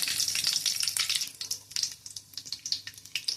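Cumin, pepper, curry leaves and dried chilies crackle and sizzle in a hot pan, a close, bright spattering that pops in quick irregular bursts.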